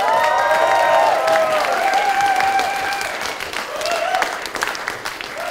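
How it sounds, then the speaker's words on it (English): Wedding guests at a barn reception give the groom a loud, full round of applause with some cheering, sustained at first and gradually tapering off, with faint voices underneath. "I think we need to give Sam another big round of applause"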